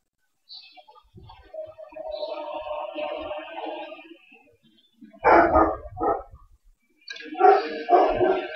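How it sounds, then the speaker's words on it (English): A dog barks excitedly in bursts, loud and close, with a stretch of howl-like whining at the start before a run of sharp barks later on. "The dog's going crazy."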